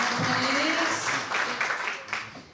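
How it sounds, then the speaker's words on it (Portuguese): A church congregation bursts into brief applause, clapping swelling and then fading over a couple of seconds, with a few voices calling out. "E uma salva de palmas."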